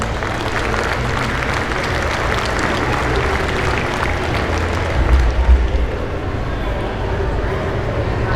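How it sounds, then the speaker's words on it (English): A crowd applauds the staff at a 4-H dairy cattle show, steady dense clapping that fills the whole stretch at an even level, heard from inside the show ring. "the staff here needs a big tremendous round of applause"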